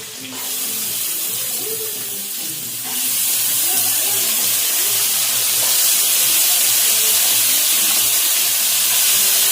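Beans and carrots tipped into a hot pan for Indian chicken fried rice set off a loud, steady hiss of sizzling that swells after a few seconds and holds, with faint kitchen clatter beneath.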